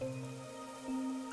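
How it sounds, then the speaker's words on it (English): Unending rainfall in Kanai Ward from the video game Master Detective Archives: Raincode, a faint even wash of drops underneath held musical tones and a gentle drip or two. "No one knows why the rain never lets up."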